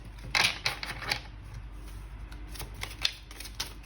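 A deck of tarot cards being shuffled by hand, a run of quick riffling and slapping bursts, loudest at the start and then continuing in lighter, irregular flicks, close and clear.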